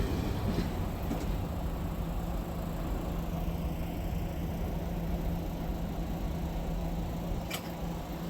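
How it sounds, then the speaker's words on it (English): A CSX locomotive hauling a train on Pan Am Railways rumbles past, a steady, broad, low roar of engine and rolling cars at moderate distance, with no talk. "this train most likely would have had an MEC locomotive instead of a CSX one"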